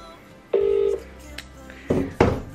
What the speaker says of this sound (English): there's Samuel trying to phone me there.